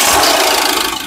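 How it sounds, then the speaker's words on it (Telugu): A 2018 Ford EcoSport Titanium engine turns over and catches on a single crank, settling into a steady, close idle hum for about a second. "ఒకసారి ఇంజన్ స్టార్ట్ చేసి చూపిస్తున్నాను చూడొచ్చండి"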